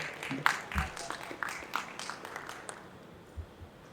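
Scattered applause from an audience at an awards night, a few uneven claps rising briefly and then thinning out over the room.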